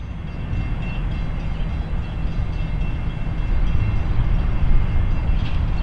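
An Indiana Northeastern Railroad train rumbles steadily past, a continuous low roar with faint rattling that swells slightly toward the end; no voices.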